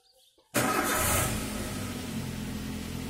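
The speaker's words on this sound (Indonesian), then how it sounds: "setelah itu kita hidupkan mesin untuk membaca current data" A 2011 Daihatsu Xenia engine cranks and catches abruptly after a brief quiet moment, settling into a loud, steady idle close to the microphone.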